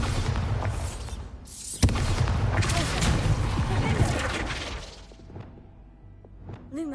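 Bombarda blasting spell in Hogwarts Legacy, a whooshing cast and a sharp explosive crack followed by a rumbling, shattering burst of debris that fades into quieter clatter.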